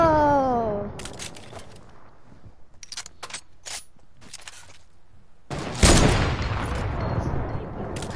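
Sniper rifle fire in an online video game sniper battle, heard as several sharp, brief cracks spread across the clip and a louder, denser stretch of gunfire noise near the end, with no talk.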